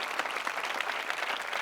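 A church congregation claps during a sermon, a dense, even wash of many hands applauding steadily, moderately loud and unbroken, with no voices on top.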